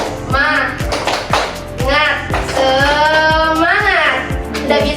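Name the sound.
rhythmic spirit clap (tepuk semangat) by teacher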